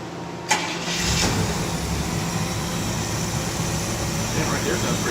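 A car engine cranks with a sharp start and catches, then settles into a loud, steady running roar close by, with people talking over it.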